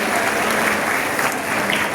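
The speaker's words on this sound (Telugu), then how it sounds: "అందరూ గట్టిగా చప్పట్లతో ఈ సెలబ్రేషన్ చేసుకుందాం" A large audience at a 70th birthday celebration for a spiritual teacher claps together, a dense, steady roar of applause filling the space.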